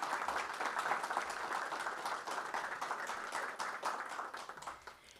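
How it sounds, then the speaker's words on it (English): A board meeting audience claps for an award winner, a soft, steady patter of many hands spread across the room, fairly quiet and fading slightly toward the end with no voices over it. "So we could just give her a round of applause."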